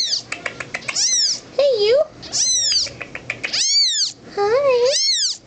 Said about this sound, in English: You're not going to quit meowing, are you?